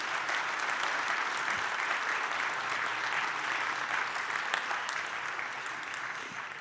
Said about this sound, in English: Let's give Ed Gordon another big round of applause.